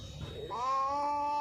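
A person imitates a cat's meow in a short, close, rising and falling vocal tone, clear and drawn out over about a second.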